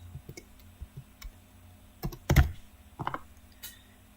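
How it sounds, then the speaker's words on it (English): Keystrokes on a computer keyboard come in sparse, uneven clicks, with a louder cluster of presses near the middle and a few taps after, close and with no voices. "So now let's type in Grant."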